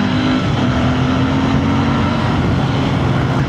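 A Royal Enfield Bear 650 motorcycle engine pulls hard in city traffic, a loud continuous rising drone with a steady rough texture close by, no speech.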